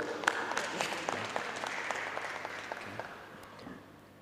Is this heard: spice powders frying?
no